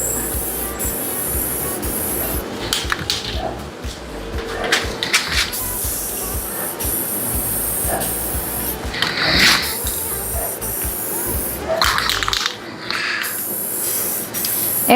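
Silver metallic spray paint hisses from an aerosol can onto a wooden Christmas star in several short bursts separated by pauses, with a can rattle between passes, over steady background noise.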